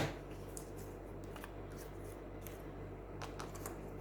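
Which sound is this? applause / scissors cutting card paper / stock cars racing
scissors cutting card paper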